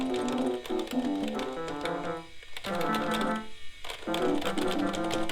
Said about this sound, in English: here's my dumbass clicking the keys.